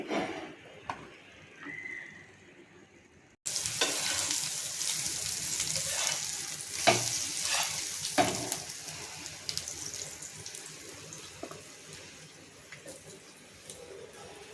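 Pav frying in a pan over masala spices for an omelette masala pav dish, a loud hissing sizzle that starts suddenly after a quieter stretch and then settles into a steady crackle, with faint scrapes and no voices.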